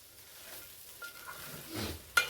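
Onion poha (flattened rice) being stirred in a pan, with a few soft scraping strokes and a brief sizzle, quiet and close, ending in a sharper clink of the spoon against the pan.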